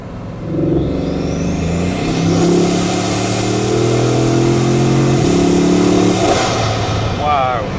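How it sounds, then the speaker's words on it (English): A Maserati Mistral's engine revs hard and loud up close, a long sustained climbing roar with rising and falling pitch that fills most of the stretch, with people talking excitedly over it and near the end. "the whole point of the Mistral is getting to experience that addictive engine noise"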